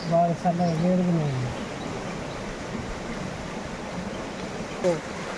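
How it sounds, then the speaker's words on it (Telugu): Hill waterfall water rushes in a steady broad hiss throughout, with a voice speaking briefly at the start and again near the end. "జలపాతాలు నీరు"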